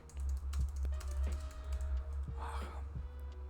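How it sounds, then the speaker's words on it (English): Quick bursts of typing on a computer keyboard, a scattering of light key clicks over a steady low hum, with a brief higher tonal sound in the middle. "I hate typing when I'm excited."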